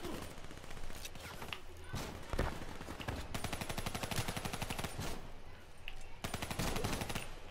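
Rapid automatic gunfire in the Black Ops III campaign, several dense bursts of fast shots with short pauses between them, loud and close, over faint game ambience.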